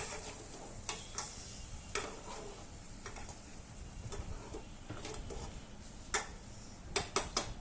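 A raw mango dish with added sugar being stirred in a pan, with faint background sizzle and a scattering of sharp clicks and taps from the utensil against the pan, some in quick bursts near the end.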